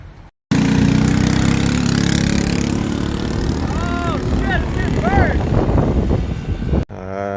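A small belt-driven kart engine with a header pipe and muffler runs loud and close, a steady droning buzz that rises in pitch as it revs, then cuts off sharply near the end.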